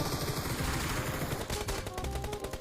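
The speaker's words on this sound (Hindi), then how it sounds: "कुछ बंदे हरामी हम पे गोलियां चलाते हैं" Rapid gunfire in the BGMI battle royale game, with bursts of automatic shots rattling in quick succession, loud and close, mixed with faint ricochet-like clatter and no talking.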